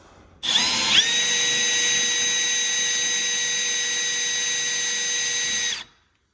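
A power drill drilling out rivets spins up with a brief bite and then runs at a steady, loud, high-pitched whine for several seconds before stopping sharply.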